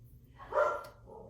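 A dog gives a single short muffled bark at the mail's arrival, heard at a moderate distance over a faint low hum.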